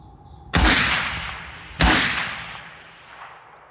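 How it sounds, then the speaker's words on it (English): Two loud rifle shots from a .223 rifle fired in quick double-tap succession outdoors, each a sharp crack followed by a long rolling echo, with no talk. "Let's see if we can get a double tap on 12 power. Last two shots of the night."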